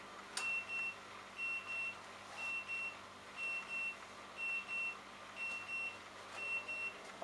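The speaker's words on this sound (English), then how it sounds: "Alarm's finished. That's the alarm going." A Hotpoint integrated single oven's timer alarm sounds a steady run of about a dozen short, evenly spaced electronic beeps, clear and close with no one talking.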